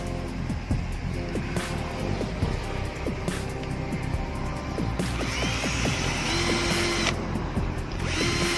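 A power drill bores holes into a plastic bottle cap. Its motor whines in several close, loud bursts that stop and restart, with the grinding of the bit through plastic between them and no talking.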